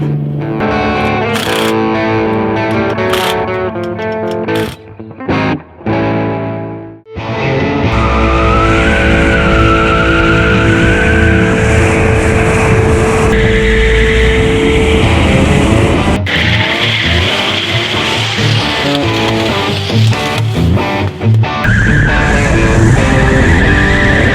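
A Dodge Challenger on worn factory Mopar wheels revs hard and squeals its tires while drifting, a loud sustained engine and tire screech after a few broken opening bursts.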